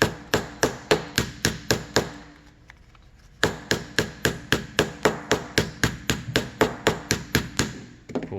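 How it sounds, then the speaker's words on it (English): A rawhide mallet taps a cork for a saxophone neck in a fast, even series of close, sharp knocks, pausing for about a second before resuming the same steady rhythm. "all I'm doing now is just taking a rawhide mallet"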